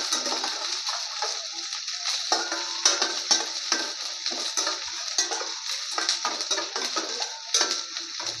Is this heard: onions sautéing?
yes